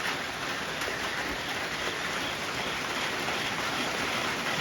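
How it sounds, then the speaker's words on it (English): Steady rain ahead of Hurricane Helene, a dense even hiss of drops falling hard on the surroundings, continuous and fairly close throughout. "So it's gonna start raining even harder."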